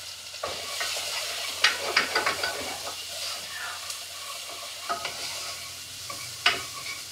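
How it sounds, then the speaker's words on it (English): Onions seasoned with salt sizzling in a hot pan, a steady close frying hiss with occasional stirring scrapes and soft clinks, no talk over it. "Turn to the pan to the heat, add the onions and season with salt."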